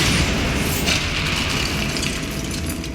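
A Bombarda explosion spell goes off in Hogwarts Legacy, a single dense, loud burst with a crackling, noisy tail that fills the whole clip, with no talk over it.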